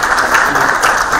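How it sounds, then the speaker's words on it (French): A general assembly audience in a conference hall gives a brief, dense burst of steady applause. "Nous les applaudissons."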